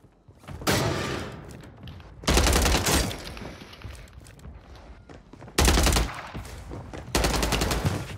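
Automatic gunfire bursts in Call of Duty on Rebirth Island, several loud sustained volleys separated by quieter gaps.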